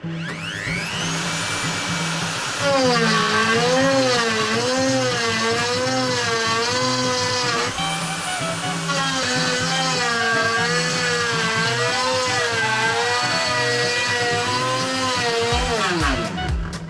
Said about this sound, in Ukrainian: є повноцінна підтримка обертів, тобто фрезер не відчуває цього навантаження